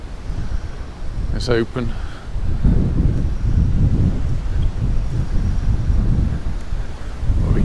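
Strong wind buffeting the microphone on a seaside terrace in Palmanova, Mallorca, with a constant low roar and gusts, while someone speaks briefly near the start.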